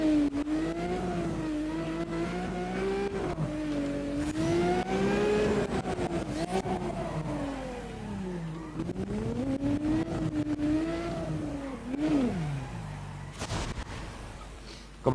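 Car engine revving and wailing while drifting in the racing game Need for Speed ProStreet, pitch rising and falling through repeated throttle swells and gear changes, with tyre and impact noises near the end.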